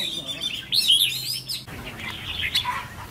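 A red-whiskered bulbul gives bright, fluttering chirps and warbling calls close by, in bursts with short pauses and some faint background noise.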